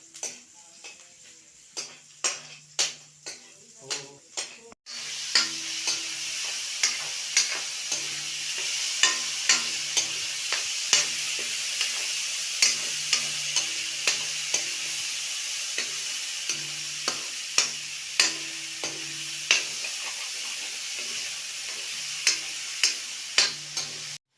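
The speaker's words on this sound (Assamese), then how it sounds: "এই আলুখিনি বঢ়িয়াকৈ ভাজি ল'ব লাগিব" Potatoes fry with a steady close sizzle in a pan on a village kitchen stove, while a utensil stirs them and taps the pan in repeated sharp clicks.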